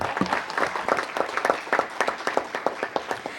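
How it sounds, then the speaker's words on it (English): An audience at a city council meeting applauds, producing a steady round of many-handed clapping that fills the room for a few seconds with no voices over it. "So give them a round of applause, everyone."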